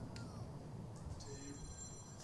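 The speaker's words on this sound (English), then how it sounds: "The phone is ringing." A telephone ringing indoors, a faint electronic ring with short repeated tones over steady low background noise; no voices.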